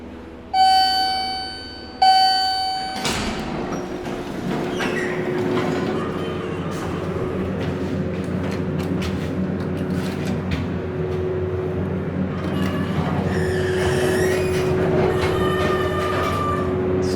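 A modernized MontgomeryKONE hydraulic elevator with a 4,000-pound capacity at Dillard's in Scottsdale Fashion Square mall opens with two bright chimes, then its motor runs with a steady, loud hum over rattling and clanking.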